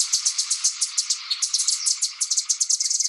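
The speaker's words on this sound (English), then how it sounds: "That's the call of the golden-hooded tanager." A golden-hooded tanager in Costa Rica gives a rapid series of high, thin call notes, evenly repeated and fairly close, with a faint insect-like buzz in the background and no talking.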